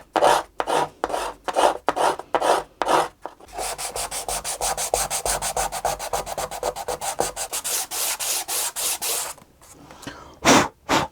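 Rasping and scraping on a glued violin joint, first as a few separate strokes, then a long run of fast, even, close strokes, ending with a couple more isolated scrapes.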